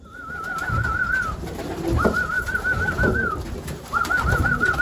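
Racing pigeons coo in a loft, three drawn-out, wavering coos in a slow repeating rhythm, close and clear over faint shuffling background.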